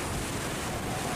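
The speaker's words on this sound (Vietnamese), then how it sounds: "Chiếc ghe lưới xù này các bạn ơi, chiếc ghe lưới xù 23m này" A 23 m Vietnamese fishing net boat from La Gi heads back to the harbor mouth at sea. Steady broadband rush of waves and wind fills the whole clip at an even level, with no clear engine note above it.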